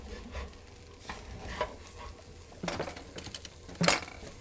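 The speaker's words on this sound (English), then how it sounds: "Just keep stirring it around." A spoon stirs and scrapes tofu scramble with turmeric and black pepper around a hot pan, soft sizzling underneath, with a few sharper scrapes and clinks close by and no talking.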